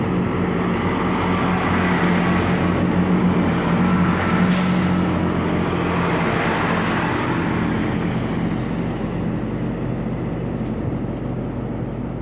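Class 165 diesel multiple unit moving through Didcot Parkway station on the Great Western Main Line toward London Paddington, a loud, continuous rumble and roar that holds steady throughout and fades slightly near the end.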